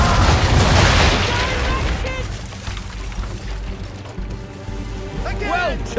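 Ship cannons fire round shot in the Assassin's Creed 3 video game, with a heavy booming broadside at the start that rolls off into a long rumble, and shouted voices and game music over the rest.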